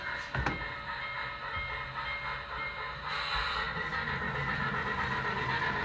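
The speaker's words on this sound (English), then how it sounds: "I will run a freight train through, going the other way." A model freight train rumbles and clatters along a track, steady and fairly close, with a brief sharp knock early and the rolling noise growing slightly louder.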